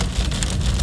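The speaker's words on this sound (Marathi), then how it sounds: "पाऊस पडतोय आणि वादळ पण सुटले" Rain beats hard on surfaces during a windy storm, a loud, close, dense patter with no talking over it.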